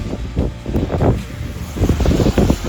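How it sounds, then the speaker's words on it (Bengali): Strong wind in a snowstorm on the mountain road from Tawang to Dirang, roaring and buffeting the microphone in close, uneven gusts. "কত হাওয়া দিচ্ছে, স্নোগুলো কিরকম করে উঠছে"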